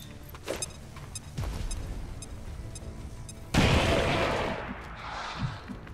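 Grenade blast and gunfire in the XCOM 2: War of the Chosen tactical game: a few sharp shots ring out, then a loud, sudden explosion bursts and rumbles away over several seconds.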